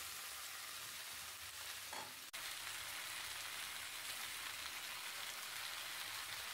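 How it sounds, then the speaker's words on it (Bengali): Malabar spinach and mixed vegetables sautéing with spices for an ilish fish-head chachra, a steady close broadband sizzle with a brief clatter around two seconds, no voices. "এই সবজি পুঁই শাকের সঙ্গে ভালো করে মশলার সঙ্গে ভালো করে মিশিয়ে একটুখানি কষিয়ে নেব"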